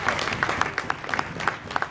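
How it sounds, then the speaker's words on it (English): Conference plenary audience gives a brief, modest round of applause, with individual claps audible in an uneven, thin rhythm lasting under two seconds. "I think he deserves a better round of applause than that."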